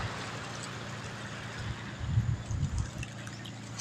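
Sea waves wash onto the shore in a soft, steady hiss, with a slightly louder surge of water midway through.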